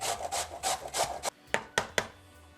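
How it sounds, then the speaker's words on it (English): Potatoes being grated on a hand grater for gluten-free hash browns, close up: several rhythmic rasping strokes followed by a few sharper, quicker scrapes, with no talking. "I just want you to grate your potatoes"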